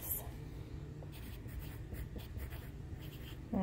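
Pen or pencil writing numbers during a math lesson, soft scratchy strokes in short bursts, faint and close, with a brief voice near the end.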